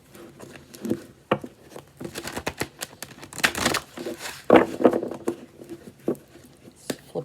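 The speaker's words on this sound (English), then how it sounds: "This is a hard one to shuffle." Tarot cards being shuffled by hand, a close, irregular run of soft riffling, patting and crinkling bursts with short pauses between them.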